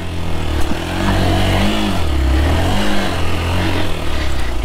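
A motorcycle rides off-road on a rough jungle track near a quarry, its engine loud and close with steady revving and rattling, and no talk.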